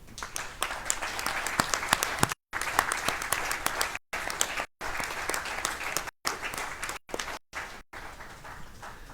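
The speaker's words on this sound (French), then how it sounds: "je vous propose de les applaudir" Sustained applause at a municipal council installation meeting for newly elected councillors, many hands clapping in a continuous rattle, broken by several brief silent gaps, with faint voices beneath.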